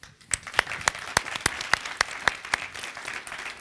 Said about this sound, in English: Please join me in an applause for a great panel